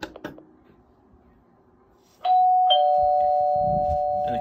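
An In Tune MP3 doorbell plays its chime, a clear electronic tone that steps up then holds as a sustained ringing note, following a few faint clicks and handling sounds in a quiet room.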